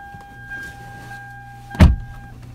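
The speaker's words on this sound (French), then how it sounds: "vous allez retrouver les vitres électriques qui sont juste ici, ainsi que les fenêtres électriques" A 2016 Hyundai Elantra GLS power window whirs with a steady motor hum inside the car, then stops with a sharp thump at the end of its travel, close and alone.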